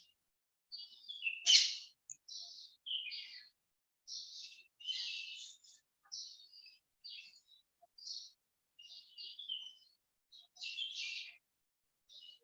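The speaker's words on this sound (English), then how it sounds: "I don't trust these birds." Small birds chirping and tweeting outdoors, a steady series of short, bright calls repeating every second or so, clear and fairly close, with one louder burst near the start and no other sounds.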